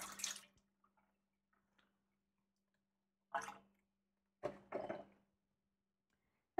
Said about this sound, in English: Drain off the liquid.